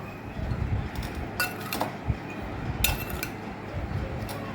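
Salad of vegetables and egg being mixed in a bowl, utensils clinking against the dish in a few sharp bright chinks over a soft continuous tossing rustle, close by.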